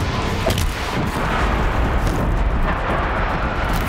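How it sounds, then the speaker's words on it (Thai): Dense, continuous booming and rumbling explosions fill the scene, layered with crackling blasts from bombs laid out during combat against machines in the video game Horizon Zero Dawn, loud and sustained with no clear gaps. "ระเบิด"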